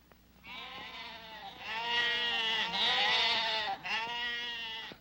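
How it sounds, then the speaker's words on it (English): Lambs bleating in a farmyard, several long quavering cries run together over five seconds, close and clear with no talk. "They're baby sheep, lambs."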